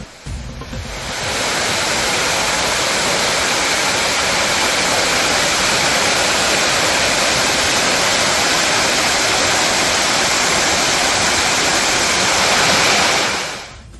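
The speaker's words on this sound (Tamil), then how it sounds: "அம்பாசமுத்திரம் அருகே உள்ள மணிமுத்தாறு அருவியிலும் தண்ணீர் ஆர்ப்பரித்து கொட்டுவதால்" Heavy water roars steadily down Manimuthar waterfall near Ambasamudram after rain, a loud, dense, unbroken rush that fills the whole stretch before tapering off at the end.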